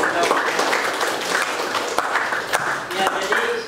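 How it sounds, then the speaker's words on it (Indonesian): Classmates in a school lesson clap for a fellow student, a steady patter of applause lasting several seconds and mixed with students and a teacher talking throughout. "Berikan tepuk tangan temannya tadi."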